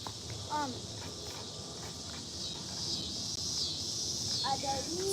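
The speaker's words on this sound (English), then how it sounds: "So that sound right there, those are our cicadas" Cicadas drone overhead outdoors in a steady, shrill buzz that runs the whole time and swells slightly midway, with a couple of brief vocal sounds and rustling underneath.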